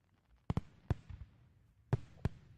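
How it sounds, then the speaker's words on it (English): Fireworks popping at a halftime show, a handful of sharp, separate bangs spaced irregularly, fairly faint and distant with a little trailing rumble and no talk. "you could pop the fireworks off"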